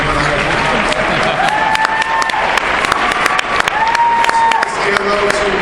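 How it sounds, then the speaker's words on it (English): Audience applause at a celebrity fight night charity gala, steady clapping that fills the room with some cheering, while a speaker's voice carries over it at times. "give her a round of applause"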